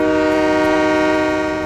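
A steady, loud train horn blast sounds from the game Train Mechanic Simulator 2017, holding a sustained multi-tone chord for the whole stretch with no talk over it.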